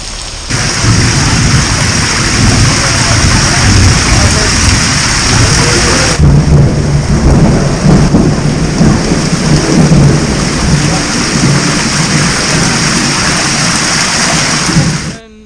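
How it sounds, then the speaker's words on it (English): Heavy downpour with thunder during a storm in Mexico, a dense, loud, steady roar of pouring rain with deep low rumbles swelling underneath for the whole stretch. "it started thundering and not raining, it started pouring"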